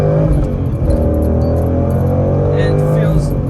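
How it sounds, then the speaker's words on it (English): A car with a Ford MT82 manual transmission accelerating hard through the gears, heard from inside as a loud, steady engine drone with rising tones as it revs, while someone talks over it. "you guys just saw me blow through the gears just now"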